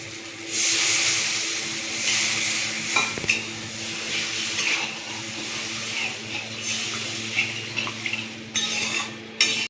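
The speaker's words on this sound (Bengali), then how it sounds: "এই দেখুন আমি এর মধ্যে জল দিয়ে দিচ্ছি।" Water poured into cooked spice masala in a pan for potol dorma, then stirred, with a sizzling hiss, a spoon scraping and clinking against the pan, and a low steady hum underneath.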